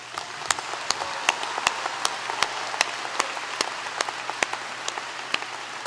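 Commencement audience applauding doctoral graduates, a broad, even patter of many hands in a large hall with a handful of crisp, close claps popping out at a regular pace over a faint hum.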